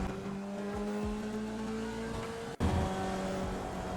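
Race car engine from the iRacing sim, a steady loud drone with harmonic tones, brief downshift blips and a sharp cut near the middle before the engine note resumes; no talking.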